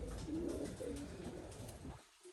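Belgian pigeons cooing in a loft, a low, soft murmuring coo that rolls on steadily for about two seconds before fading out, close and fairly quiet with no talk.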